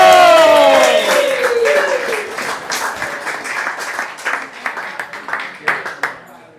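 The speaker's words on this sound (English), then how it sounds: "give a round of applause to everybody that made this venture possible" An audience at a cancer benefit fundraiser applauds, the clapping loud at first and gradually thinning into a few scattered, distinct claps as it fades out.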